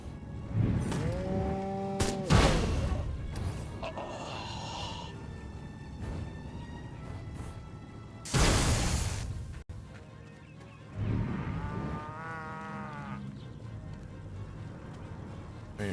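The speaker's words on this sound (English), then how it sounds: "Oh no, there's cows. There's more cows." Cows mooing in the video game Destroy All Humans, a few drawn-out moos rising over game sound effects and background noise, with bursts of louder action sounds between them.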